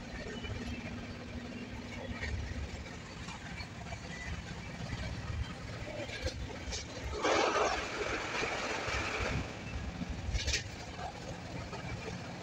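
Passenger train rolling through the night on the Delhi to Medinipur run, a steady low rumble of wheels and carriage noise throughout, with brief louder clatter midway.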